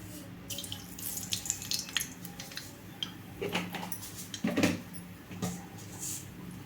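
Mustard seeds crackle and sizzle in a little heated cooking oil for a ridge gourd chutney, giving irregular soft pops and spits up close, fairly quiet, with light clinks of a utensil.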